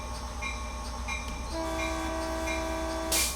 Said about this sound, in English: We'll hit the horn.